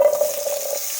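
Potatoes dropped into hot oil spluttering with cumin seeds, a close, steady bright sizzle with a brief hiss and tonal whine at the onset, no talking.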